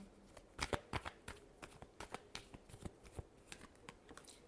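Tarot cards being shuffled by hand close up, a quick run of soft riffling slaps and flicks in an uneven rhythm, fairly quiet with no talk.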